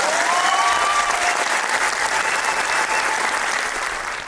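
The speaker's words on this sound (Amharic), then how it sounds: "አጨብጭቡ።" An audience at a motivational talk bursts into loud, dense hand-clapping that holds steady for several seconds and tapers slightly at the end, with no speech over it.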